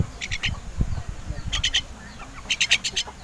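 Chickens near caged pet birds outdoors, giving short clucks and bursts of high chirping calls in uneven clusters, close and moderately loud.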